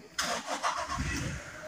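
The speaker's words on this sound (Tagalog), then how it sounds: "Buhay na ang makina." Toyota Innova engine starting during a turbo timer installation: a short burst of starter cranking that catches, then settles into a steady low idle, close and fairly loud.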